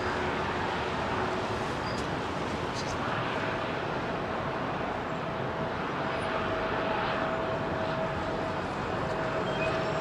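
A former American Airlines Boeing 757 jet drones steadily nearby, a broad continuous engine roar that holds across the whole stretch with faint voices underneath.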